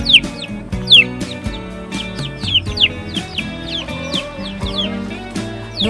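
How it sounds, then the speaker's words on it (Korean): A hen strolls around a yard with her three chicks, giving repeated clucks and high chirps over a soft, steady background of tonal music. "누나 닭이랑 같이 마당 산책하는 중이에요."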